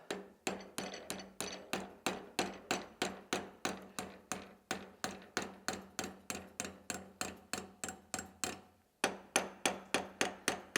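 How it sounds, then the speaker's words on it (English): Steady hammer blows on metal driven through a round punch, about three strikes per second in a regular ringing rhythm, loud and close, with one short pause before the blows resume. "Put my round punch in till it stops. And then work from the bottom."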